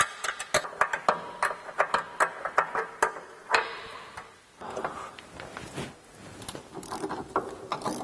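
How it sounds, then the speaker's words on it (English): A ratchet with a 10mm socket turns the nuts off the factory rocker guards on a Jeep JK, giving quick bursts of crisp clicking near the microphone with short pauses between strokes. "Now you're going to take a 10mm, either socket or an inch, and remove the nuts that hold the factory rocker guards to the pinch weld."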